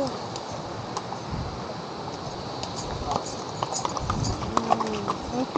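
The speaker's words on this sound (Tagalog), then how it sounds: "May kabayo." Hooves of a horse clip-clop on the rocky hiking trail of Mt. Daraitan in Rizal, steady and fairly close, mixed with wind noise and hikers' voices chatting.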